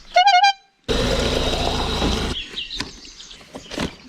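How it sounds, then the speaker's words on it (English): A harmonic squawking horn on a loaded touring bicycle sounds once, loud and close, on a Northumberland coast bikepacking trip, then gives way to a steady rushing noise and scattered knocks. "he's brought this rather annoying honking horn"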